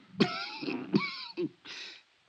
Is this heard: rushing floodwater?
no